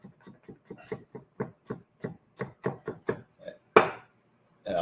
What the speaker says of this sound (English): So we're just chopping up some garlic.